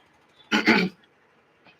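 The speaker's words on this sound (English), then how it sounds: "bear with me with this coughing" Two quick, harsh coughs close up, then near silence with a faint small sound at the end.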